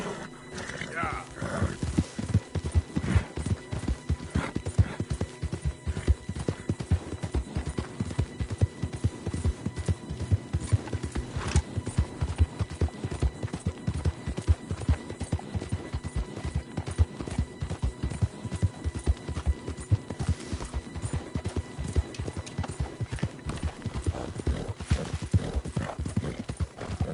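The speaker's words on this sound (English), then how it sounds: "Horses" Horse hooves clip-clop steadily and quickly in the Red Dead Redemption video game, a dense, continuous rhythmic clatter close up and loud from start to finish, with a brief whinny early on.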